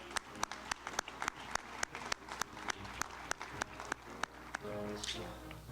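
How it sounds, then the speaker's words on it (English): At a school service-honoring ceremony, people clap for Marines who have served or are serving, with sharp, evenly spaced claps in a steady rhythm. A voice comes in near the end. "I have applause for our folks serving in the Marines"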